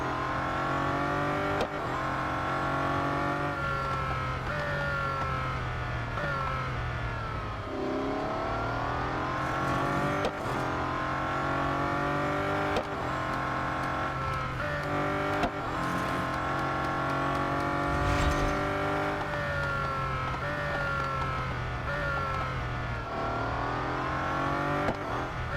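Racing car engines in Real Racing 3 wail continuously during a Bugatti Centodieci race, rising through the revs and dropping with each gear shift in a repeating pattern, loud and close, with occasional other cars whooshing past.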